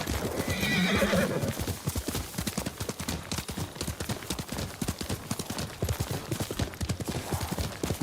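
In Ghost of Tsushima, the horse Kage gallops with rapid, steady, close hoofbeats, and a whinny rises near the start.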